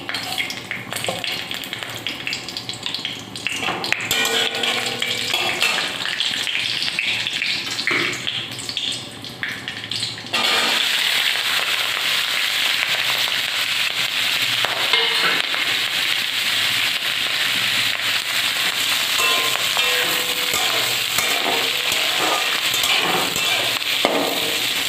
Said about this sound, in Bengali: তেলের ওপর আমি শুকনো লঙ্কা দিয়েছি আর একটু কালো জিরে দিয়ে দিলাম